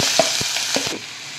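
Loud sizzling of finely chopped bell pepper dropped into hot tempering oil, with a few scraping stir strokes, before the hiss suddenly drops to a quieter simmer.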